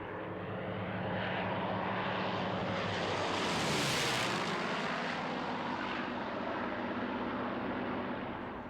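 A Kittyhawk with an Allison V12 and a Spitfire and Mustang with Merlin V12s fly in close formation with a Corsair, their piston engines building to a loud, rushing roar as they pass overhead and then fading away.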